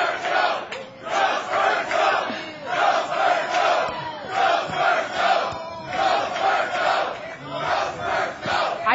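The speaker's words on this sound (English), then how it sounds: "Oh my gosh, they're clapping for you." A large live podcast audience makes a steady, loud crowd roar with cheering that persists for the whole stretch, with no distinct voices standing out.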